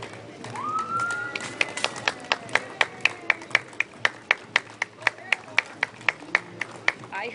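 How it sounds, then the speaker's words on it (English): Spectators at the Appleton Flag Day Parade clap in a steady, even rhythm, sharp distinct claps falling roughly three or four per second over a low background murmur of voices. "They are rising to their feet and applauding."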